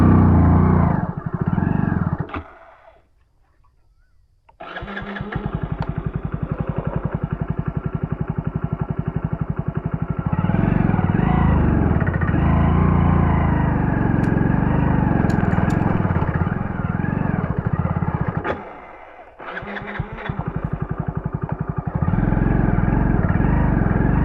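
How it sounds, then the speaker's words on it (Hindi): A motorcycle engine labouring uphill in first gear on a rough track to a hidden waterfall in Rajasthan, a loud continuous strained drone that briefly drops away twice before returning. "पहली गियर पे कैसे बाइक चलाएंगे भाई?"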